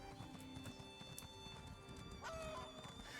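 Special non-default reward horse mount in an online role-playing game clip-clops at a steady walking pace, the hooves close and even under faint background music, with a short whinny near the end.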